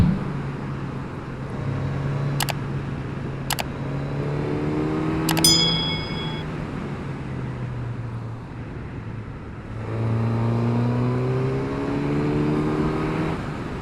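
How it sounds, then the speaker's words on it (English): A Suzuki GSX-S1000 motorcycle's engine and airbox growl steadily while ridden on a country road, the tone rising and falling with the throttle, heard close amid wind and road rush, with no speech. "The airbox has got a nice growl to it."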